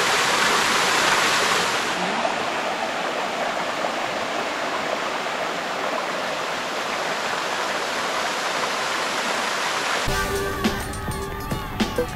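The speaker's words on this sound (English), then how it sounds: "the waterfalls." Waterfalls in a shady creek lined with tree ferns in New Zealand's Deep South pour with a loud, steady rushing roar, continuous and close, changing abruptly to a thinner, noisier texture near the end.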